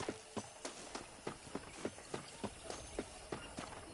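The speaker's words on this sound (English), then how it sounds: "let's see if you can still ride a horse" Steady rhythmic horse hoofbeats in a PS5 video game, a quick even clip-clop cadence at close range, fairly faint, with no talk over it.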